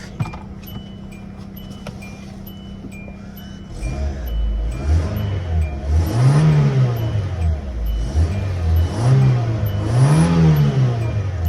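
A 2009 Kia Rio engine, freshly serviced throttle body, idles steadily and then is revved repeatedly in swelling, rising-and-falling bursts, close and fairly loud with no talk.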